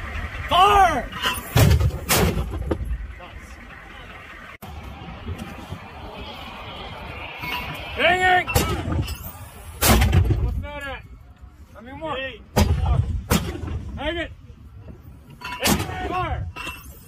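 120mm mortars firing during soldiers' pre-mobilization training, a series of heavy, booming launches spaced several seconds apart, each preceded by shouted commands from nearby voices.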